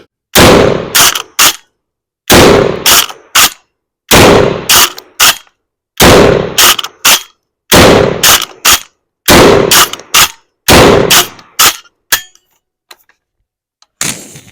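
A KelTec KSG 12 gauge pump shotgun fires double aught buckshot in a slow, regular string of about seven booming outdoor blasts, each followed by sharp metallic clacks of the pump action, with brief silences between shots.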